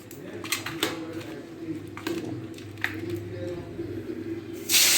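Four pieces of fish drop into hot oil in a wok and fry with a hissing sizzle that swells sharply at the end, while someone talks over the cooking.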